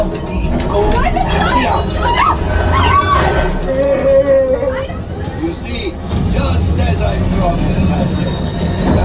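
Train sound effects on the Smugglers Run ride at Galaxy's Edge: rumbling and metallic squeals from the simulated train mix with ride effects and riders' voices calling to each other.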